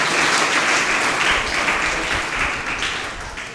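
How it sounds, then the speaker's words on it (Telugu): Audience at a celebration of warrior women applauding, a dense continuous wash of many hands clapping that holds loud and slowly fades slightly toward the end. "ఒకసారి చప్పట్లు కొట్టండి అందరు."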